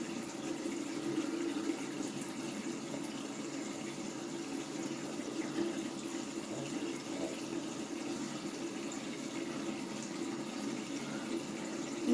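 A sink tap runs steadily while someone rinses their face, a continuous close splashing water flow lasting throughout with no talking.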